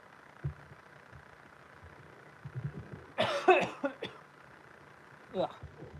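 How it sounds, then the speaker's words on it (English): A couple of sharp, raspy coughs break out close by, followed by a brief throat-clearing burst, over a low steady background hum. "I'm about to cough."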